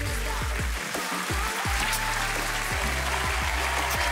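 Audience applause at a Voice Kids France blind audition, a dense continuous wash of clapping layered over loud music with low thumping beats.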